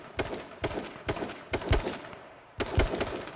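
Video game gunfire aimed at enemies on a rooftop comes in five or six loud, close bursts of rapid automatic shots separated by short pauses.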